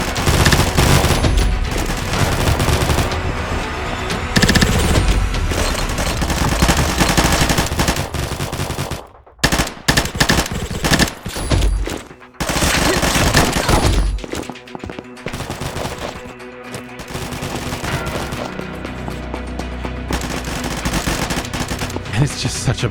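Rapid gunfire in the online shooter Blindfire, loud sustained bursts of automatic weapons and overlapping shots, with brief pauses before the shooting resumes near and far.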